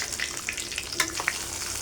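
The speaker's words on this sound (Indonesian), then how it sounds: "Untuk minyak udah panas, kita siap goreng kacangnya." Steady sizzling and crackling of peanuts frying in hot oil, with scattered sharp pops over a continuous hiss.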